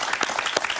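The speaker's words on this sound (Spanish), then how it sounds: "Un aplauso para él, por favor." A TV studio audience applauds a guest, a brief, dense patter of many hands clapping, steady and fairly loud, with no talk over it.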